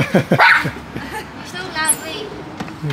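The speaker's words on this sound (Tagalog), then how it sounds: "Yan yung aso namin, oh." A pet dog gives excited yips and short barks at a coffee-shop drive-thru, mixed in with a woman's close, affectionate talk that runs through most of the moment.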